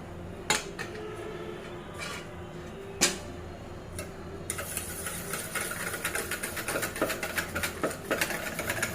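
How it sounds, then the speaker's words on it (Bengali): Milk being whisked into eggs for a caramel pudding, starting with a few sparse clinks against the bowl and then becoming a rapid, steady tapping of utensil on container, close and fairly quiet with no talk. "এখন আমি দুধটা মিশিয়ে নিচ্ছি ডিমের সাথে"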